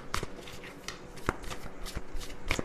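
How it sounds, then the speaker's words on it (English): Large tarot cards are shuffled by hand in a series of soft riffling and slapping sounds, with sharp clicks every second or so, close and quiet. "So I have to shuffle them"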